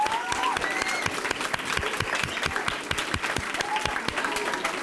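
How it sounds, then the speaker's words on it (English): A crowd at a school Black History Month celebration gives a sustained round of applause, steady and dense with individual claps standing out, filling the room without any talk over it. "let's give this whole Black History celebration a nice round of applause"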